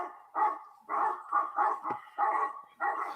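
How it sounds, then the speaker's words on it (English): Several dogs bark together from a played dog sound effect, a choppy series of about seven sharp barks in uneven bursts, loud and close with no talk over them. "Notice how there's like 3 or 4 dogs barking at the same time, too"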